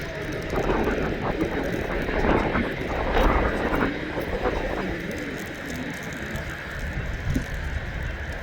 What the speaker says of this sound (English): Qatar Airways, Airbus A350. That's that little site. Manchester to Doha.